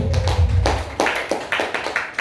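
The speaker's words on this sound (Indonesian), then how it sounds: "tepuk tangan Bapak Ibu" A small group clapping hands after a talk in a school vision discussion session, a handful of distinct, separated claps near the microphone with a low rumble early on.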